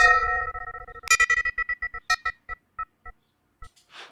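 Synthetic chime tones run through spectral processing in SoundThread for the Composers Desktop Project, a dense cluster at first, then a bright burst and a thinning string of separate bell-like pings fading to a last few faint hits.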